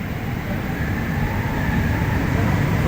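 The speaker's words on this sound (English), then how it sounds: "enjoy the natural sights and sounds of the Montreal Metro system" A Montreal Metro train rumbles between stations, with a loud steady low roar of wheels and motors, rising slightly as the car runs through the tunnel.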